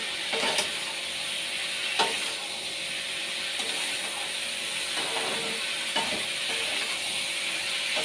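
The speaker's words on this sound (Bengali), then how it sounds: "আলুটা ভেজে নিচ্ছি ভালো করে। পেঁয়াজটা আর আলুটা একসঙ্গে ভাজা ভাজা হয়ে যাবে।" Onion and potatoes frying together in a pan, a steady close sizzle and hiss running the whole time with a few faint clinks of a utensil and no talking.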